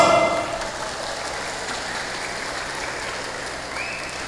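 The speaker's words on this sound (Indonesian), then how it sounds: "Tuh, tepuk tangan dong." Audience applause at a Maulid Nabi commemoration gathering: a steady, dense wash of many hands clapping. It starts a little louder, then holds evenly for a few seconds, with no speech over it.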